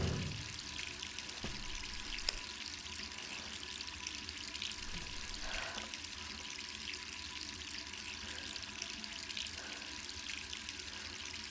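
Running water in the video game Resident Evil 3 makes a faint, continuous hiss like a tap, with a few soft knocks and drips and no voices over it.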